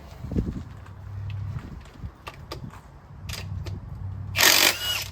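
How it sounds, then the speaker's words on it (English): A giant impact wrench on the crank pulley bolt of a Lexus LS430, driven through a non-impact socket, gives a loud burst of hammering buzz near the end, after scattered clicks and knocks of setup. "Giant impact for the crank pulley, non-impact socket will make do."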